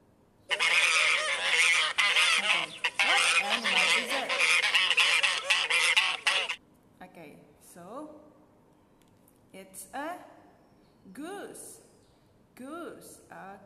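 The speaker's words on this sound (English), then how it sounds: "we're going to say it is a goose" Loud, harsh goose honking fills the first half, then a voice speaks in short phrases with pauses, naming farm animals.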